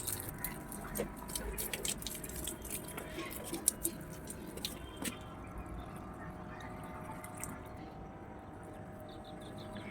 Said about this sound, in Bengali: এই দেখুন জল পড়ছে এই যে গাছ জল দিচ্ছি